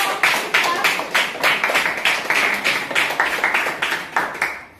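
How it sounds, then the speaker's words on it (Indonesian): Classroom audience clapping for a student group after its presentation, a steady run of many hands with rhythmic beats, fairly close and loud, ending at the close. "Kasih tepuk tangan untuk kelompok."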